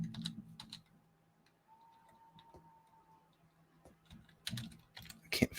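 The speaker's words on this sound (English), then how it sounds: "I'm typing the address into Odysee right now" Someone types an address on a computer keyboard: short bursts of close, crisp key clicks separated by quieter pauses, with no talking.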